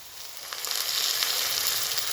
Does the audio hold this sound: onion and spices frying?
yes